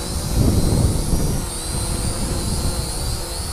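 Visuo Zen Mini budget GPS drone flying in strong wind, its motors giving a steady high whine over loud low wind buffeting on the microphone, with no talk.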